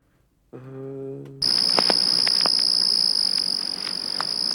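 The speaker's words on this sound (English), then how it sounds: "since it's like sad lo-fi, cricket would do well." Cricket chirping ambience used as a sample for a sad lo-fi track: a brief low tone drops out, then a dense, continuous high chirping starts abruptly and holds steady, loud and close.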